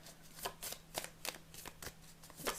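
Tarot cards handled and drawn during a pick-a-card reading, giving a run of soft, quick papery flicks and slides at an irregular rhythm, close and fairly quiet with no talking.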